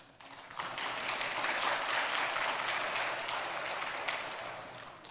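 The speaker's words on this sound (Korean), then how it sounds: "박수 친 사람은" A church congregation breaks into warm, dense applause that holds steady for several seconds and then eases off slightly toward the end, with no talking over it.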